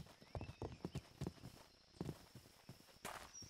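Horse hooves clip-clop in Minecraft, a quick uneven run of close hollow knocks, followed by a brief soft whinny-like sound.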